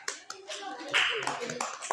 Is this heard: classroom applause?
yes